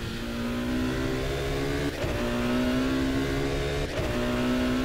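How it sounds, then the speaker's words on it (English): A race car engine in a sim racing game drones loudly and steadily while slipstreaming an Audi, its rising pitch broken by two quick gear shifts. "Inside view from the car of Simtek Chora on slipstream to the Audi"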